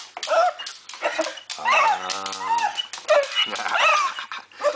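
A female dog whimpers and whines in high, wavering cries at close range, on and off throughout, with a person talking softly to her at an outdoor bushcraft show.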